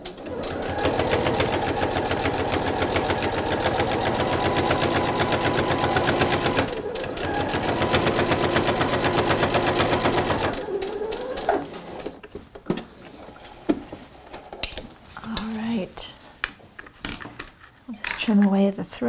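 A sewing machine stitches thick fabric for a neck wallet in a fast, continuous rattling run of about ten seconds with a brief pause. Handling clicks and scattered noises follow, with someone speaking faintly.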